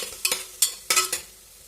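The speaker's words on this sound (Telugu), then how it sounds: "ఈ వేసిన మసాలా అంతా మనం చేసుకొని బాగా ఫ్రై చేసుకోవాలి" Spice masala frying in a pan, heard as a few quick scraping stirs of a spoon over a faint sizzle, four short strokes in under two seconds, close and quiet.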